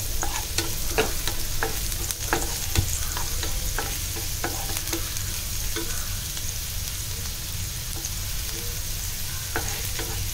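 A finely chopped onion fries in a few spoonfuls of hot peanut oil for a Malvani prawn curry, giving a steady, dense sizzle with scattered clicks of stirring and no talk.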